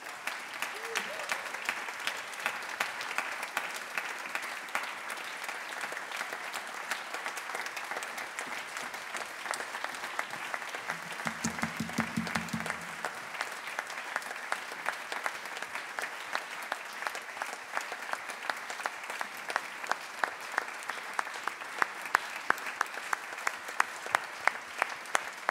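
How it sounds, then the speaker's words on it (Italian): An audience applauds a poet at an evening gathering: steady, sustained clapping from many hands runs evenly for about 25 seconds, moderately distant, with a brief low hum partway through. "vogliamo fare il grande applauso al nostro carissimo poeta Carlo Pagnini"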